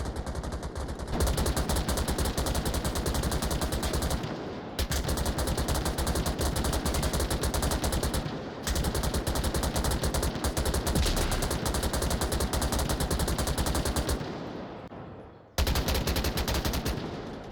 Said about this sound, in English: Suppressive fire coming in from Goldbro